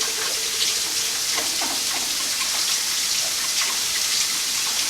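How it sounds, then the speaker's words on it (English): Tap water runs steadily into a kitchen sink while hands are washed after handling raw lean ground pork, a constant broadband splashing hiss with light droplet patter, close and alone with no talking. "let me go ahead and wash up"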